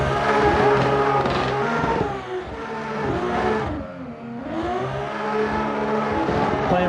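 A drift car on its competition run at a Formula Drift event at Soldier Field, its engine loud and continuous with rising and falling revs, dipping briefly at the midpoint before surging back under a steady roar.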